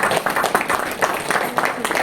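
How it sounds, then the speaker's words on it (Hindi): Audience clapping for Krishna at a Hindi gathering, a short dense burst of many hands applauding together, fairly loud and steady throughout. "तालियां बजाइए कृष्ण जी के लिए।"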